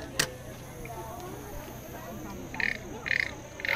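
A frog noisemaker toy at the 115th Arden Fair in Delaware croaks in three short raspy bursts near the end, after a faint opening click, with background chatter from the outdoor art fair.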